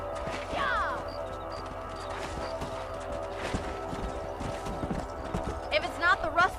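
Horse hooves clip-clop at a quick gallop in the video game Red Dead Redemption, steady rhythmic beats up close with a whinny, and a character speaks over the riding.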